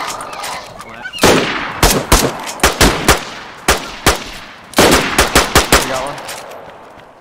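Gunfire in the video game DayZ rings out in sharp bursts of rapid shots, some single cracks and some quick strings, loud and close, with players talking and shouting between volleys.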